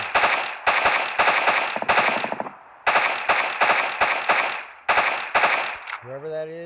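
Loud automatic gunfire from a weapon in the video game PUBG Mobile, fired in several long sprays of rapid rounds with short pauses between bursts, ending with a brief electronic tone.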